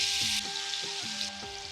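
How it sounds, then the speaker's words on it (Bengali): Chicken pieces fry in butter in a pan, giving a loud, steady sizzle that crackles close up, with a faint tonal hum underneath. "মাংসটি এখন ফ্রাই করে দিলাম একটা একটা করি আমি।"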